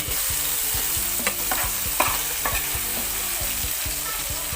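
Sesbania flowers stir-fried in oil in a pan, a loud close continuous sizzle with rhythmic scraping strokes of the spatula, no talking.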